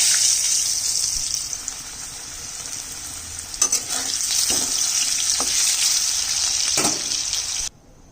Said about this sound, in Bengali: এবার মাংসের আলুটা ভেজে নিচ্ছি।